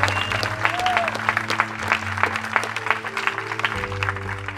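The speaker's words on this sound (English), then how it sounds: "can we give another round of applause for Tara Lynn?" Audience applause for a community organizer at an anti-fracking gathering in Denton, steady clapping with some low hum and voices mixed in throughout.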